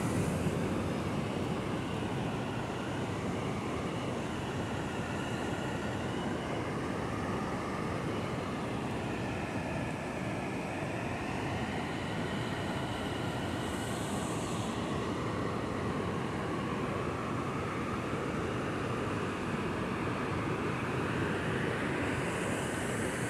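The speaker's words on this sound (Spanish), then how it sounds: "El río está cargado por la lluvia que está iniciando ya" A rain-swollen river seen from a bridge at San Pedro de Huataca, rushing water producing a continuous broad roar at a steady level with no voices.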